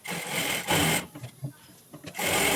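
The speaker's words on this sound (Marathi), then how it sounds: "ते मी कमरेच्या साईडची शिलाई देऊन घेत आहे" A sewing machine stitches the side seam of an aari-work blouse at the waist, running in loud continuous bursts with brief pauses between them, no talk over it.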